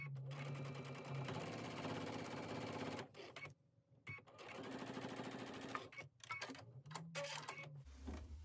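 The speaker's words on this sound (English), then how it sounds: "now we're going to top stitch the opposite side of the sashing" A sewing machine top-stitching quilt sashing, its rapid needle rattle running in close bursts broken by short pauses and a few clicks, fairly quiet overall with no talk.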